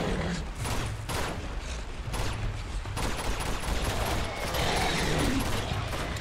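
Rapid, sustained gunfire in the video game Uncharted 2: Among Thieves, a dense continuous barrage of shots with a few louder bursts, loud and close, with no voices over it.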